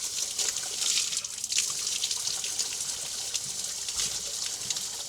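Water runs steadily from a 1990-built village spring in Khachmaz, Azerbaijan, a close, continuous splashing gush with small drip-like spatters throughout.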